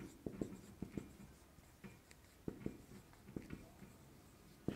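Pen or chalk writing out an equilibrium condition for a winch lifting a bucket of water, heard as soft scratchy strokes and taps in short irregular bursts, fairly quiet against a low room hum, no talking.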